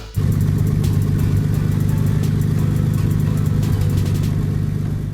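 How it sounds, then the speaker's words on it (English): A restored 1948 Fargo truck with a 218 cubic inch engine runs at a steady, close idle, its even low-pitched throb holding without revving. "Monty enjoyed hearing the old engine run once again"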